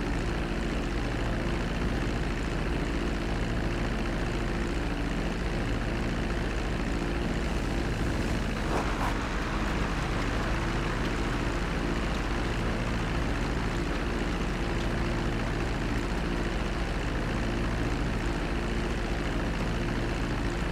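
An airplane in Grand Theft Auto V arriving at the airport and taxiing, a steady low engine drone that holds at an even level throughout with no talk.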